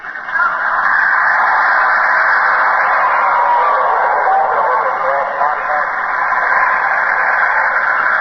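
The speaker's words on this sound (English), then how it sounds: "That sound of voices may be what the technicians call ghost voices, weird patterns of static which sound like people talking." Crackling shortwave radio static in an old CBS radio drama, a continuous band-limited hiss with faint garbled murmurs resembling distant talking voices, steady and loud throughout.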